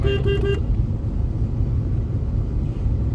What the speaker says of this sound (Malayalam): ഹോണടിക്കും.